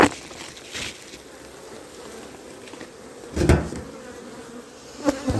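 Honeybees buzzing around an open beehive early in the morning, a steady close hum with a few louder passes as bees fly near, and no talking.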